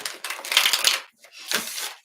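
Tarot cards being shuffled by hand, two crisp riffling bursts of fluttering card edges, the first longer and the second shorter after a brief pause, close and clear.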